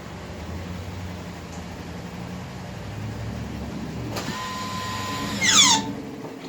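In a 2019 Toyota RAV4, the electric parking brake sets itself with a brief rising motor whine and a soft mechanical whir over the car's steady low idle hum.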